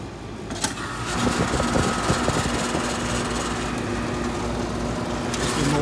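A replacement HVAC condenser fan motor spinning up after the disconnect is switched on, a close, steady motor drone with a faint tonal whine and mechanical rattle, running on continuously.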